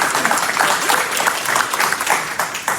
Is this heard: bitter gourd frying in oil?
no